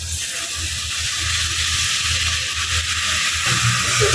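Beef stock in a frying pot for peanut soup, being stirred over the heat with a constant loud sizzle and hiss, low scraping and bubbling beneath, close by and growing slightly louder.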